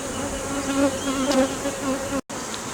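Agitated honeybees drone loudly and steadily around an open hive during a wet spring, a close, dense buzz with a few pitch swells and a brief cut near the end.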